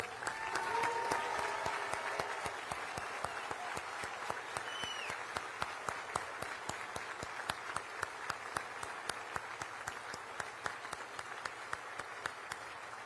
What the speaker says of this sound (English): let's give your families a round of applause